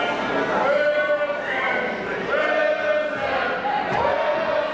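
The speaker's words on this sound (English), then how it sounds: "Listen to this crowd getting fired up even further. Screaming, shouting, chanting for Wilson Colas." At a wrestling match for the NWA British Commonwealth Championship, a crowd screams, shouts and chants for Wilson Colas in rising, wavering waves, with a commentator talking over the noise.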